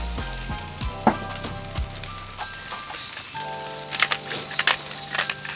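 Hash browns fry on a Blackstone griddle with a steady crackling sizzle. A few sharp scrapes and taps of a spatula sound near the start, and a busier cluster of pops and clicks follows toward the end.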